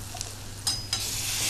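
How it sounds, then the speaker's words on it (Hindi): Tempering for Nimar-style dal bafla sizzling in a pan, a low steady fry with two short bursts of louder hissing as it is stirred. "हम फिर एक बार आपको छनका लगाएंगे जी"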